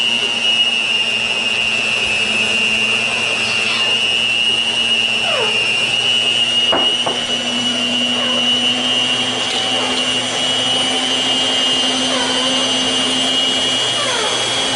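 An electric mixer beats Jiffy muffin batter in a bowl, a steady high-pitched motor whine that runs without pause, with occasional scraping clicks against the bowl.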